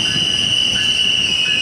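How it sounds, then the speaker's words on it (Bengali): The Titumir Express, a Rajshahi-bound down intercity hauled by locomotive 6603, pulls into Nilphamari station with a loud, continuous high-pitched wheel squeal over a steady rumble of rolling rail cars. "তিতুমির এক্সপ্রেস ট্রেনটি"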